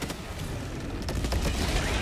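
Video game gunfire crackles in a dense, steady stream of rapid shots, fairly loud and continuous through the whole moment, with a few sharper cracks standing out and no talk over it.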